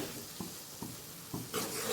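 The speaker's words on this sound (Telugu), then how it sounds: "స్పైసెస్ అన్నీ వేసుకున్న తర్వాత కలుపుకోవాలి" Spices, including coriander powder and garam masala, are stirred in a frying pan while cooking ridge gourd curry, giving a steady low sizzle with three or four soft scraping strokes and a brighter hiss near the end.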